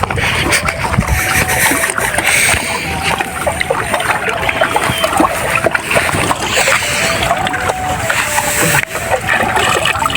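Loud, continuous water sound with splashing as a hand touches and stirs the cold water of the Padma river from a boat, steady and close throughout with no clear speech.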